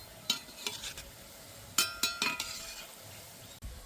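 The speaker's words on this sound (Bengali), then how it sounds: "হালকা আছে কিন্তু মিষ্টিগুলো ভাজতে হবে" Semolina sweets fry in a pan, a soft sizzle under a few sharp metallic scrapes and clinks from stirring, clustered in two short groups, close by with no voices.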